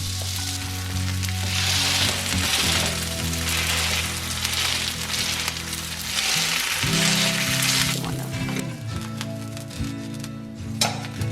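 Slovenian Krumpantoč potato fritters fry in a hot pan with a steady, loud sizzle and crackle, joined by a few soft clinks and tonal hums near the end.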